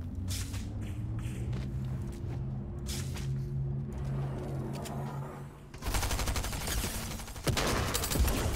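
Rapid bursts of Stinger SMG fire in a squad-based shooter, close and loud, with a dense rattling fusillade that intensifies in the final seconds.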